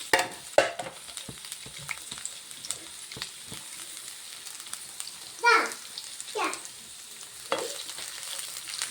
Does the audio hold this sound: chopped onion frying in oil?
yes